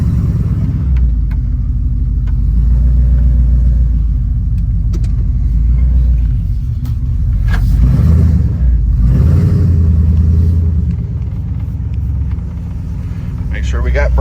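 Car backing out of a driveway, a loud, low engine rumble that holds steady, swells briefly in the middle and then settles, heard close up beside someone talking.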